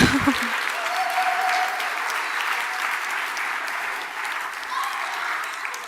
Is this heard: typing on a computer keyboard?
no